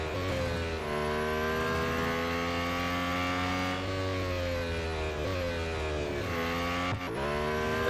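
A Lotus Emira GT4 race car in the driving game Real Racing 3 drones loudly at high revs, its engine pitch climbing and dropping through gear shifts and braking, continuous and close throughout.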